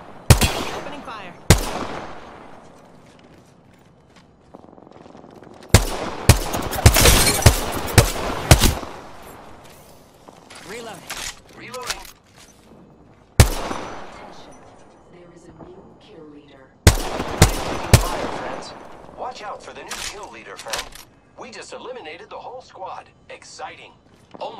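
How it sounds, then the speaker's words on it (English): Gunfire in Apex Legends: several loud, sharp bursts of rapid automatic shots separated by quieter stretches, with the later bursts more scattered and echoing. "Opening fire."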